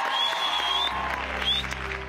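A studio audience on a Nowruz children's TV game show claps in a short burst of applause, dense and fairly loud throughout, with faint voices in the background.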